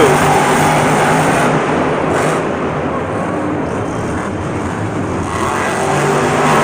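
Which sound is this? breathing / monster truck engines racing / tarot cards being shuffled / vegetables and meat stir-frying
monster truck engines racing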